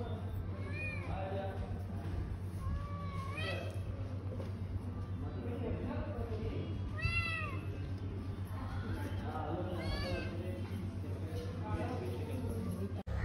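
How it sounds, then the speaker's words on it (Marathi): Two cats play inside a Swami temple math and meow repeatedly, clear and fairly close over a steady hum, about half a dozen rising and falling cries with some quiet talk around them. "मठामध्ये या 2 मांजरी अशा मस्त खेळत होत्या"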